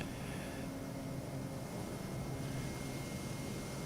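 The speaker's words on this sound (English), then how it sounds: "I just heard John do a flyby again." An aircraft in Microsoft Flight Simulator, bush flying over Botswana, gives a faint, even engine drone that holds steady throughout with no voices.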